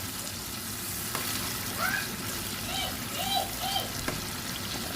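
Steady sizzling of squid pieces frying in hot oil, a continuous crackling hiss with a few faint higher chirps in the background.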